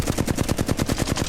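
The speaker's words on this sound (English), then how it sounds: "scoped in, no recoil control at all, just raw firing" Rapid automatic gunfire from the Apex Legends video game, fired scoped in with no recoil control, a fast, even stream of sharp, loud shots that continues without pause throughout.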